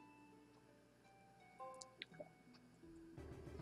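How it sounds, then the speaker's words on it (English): Watery Windows 8 device-connect chime, heard as a short cluster of bright droplet-like blips over a quiet background, followed by a faint burst of game noise. "That water sound is my Window 8. The Window 8, when you plug in a device, it does that."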